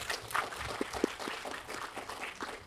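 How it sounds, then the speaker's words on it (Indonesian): Faint audience applause for a woman being honoured at a Bogor coffee gathering: a soft, steady patter of clapping with a few sharper claps standing out, continuing throughout. "Tepuk tangan buat Bu Nancy."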